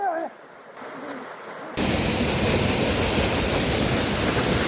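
Water pouring at Phung Phung waterfall in Kakani, starting as a quiet hush and then surging into a loud, steady broadband roar close by, with brief faint sounds early on.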